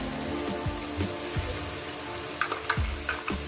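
Masala and onion sizzling in a pan for mutton curry, a dense steady frying hiss with regular scrapes and stirring strokes close by, no talking.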